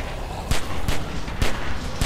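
Gunfire in The Walking Dead video game: four loud, evenly spaced single shots about half a second apart, close and sharp over a steady background hum.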